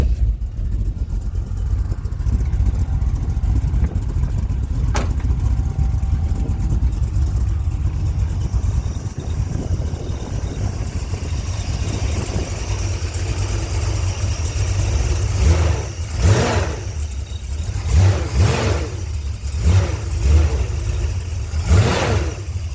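A CUCV M1008 Chevy squarebody truck, swapped to an LS3 V8 with MagnaFlow mufflers, idles with a deep, steady rumble and a whirring cooling fan, then gets several sharp revs near the end.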